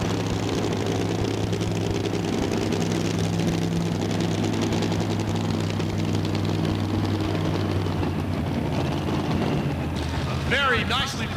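A 1936 Chevy tractor-pull truck with a 575-cubic-inch engine roars at a pull event in the Cow Palace arena, a loud, sustained, deep engine drone that holds steady throughout, with a few high squeals near the end.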